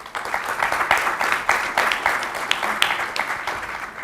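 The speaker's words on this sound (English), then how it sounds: "please welcome them with a round of applause" Audience applause welcoming conference panelists at a Latin American business event, a dense, steady round of clapping lasting several seconds at moderate loudness with no talk over it.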